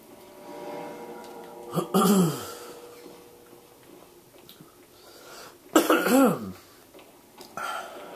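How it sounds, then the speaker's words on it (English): A person clears their throat twice, two short rough bursts a few seconds apart, close to the microphone amid quiet room noise. "I'm just trying to clear my throat here."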